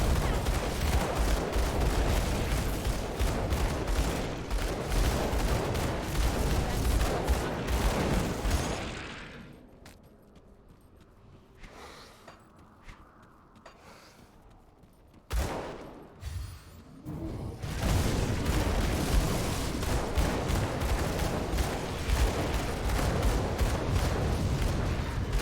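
Dual pistols fire rapidly in Grim Dawn, with dense, loud bursts of gunshots that break off into a quieter lull before the shooting resumes just as heavily.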